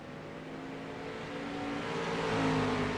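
Street stock race cars in the iRacing sim lap the Bullring oval at Las Vegas, engines droning steadily and swelling louder as the pack accelerates, with no talk over them.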